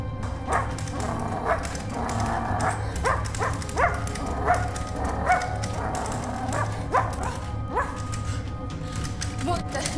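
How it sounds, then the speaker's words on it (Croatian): A dog gives a run of repeated yips and barks at uneven intervals, some edging into whimpers, over a steady low hum, moderately close. "Ruby, laje kao pas."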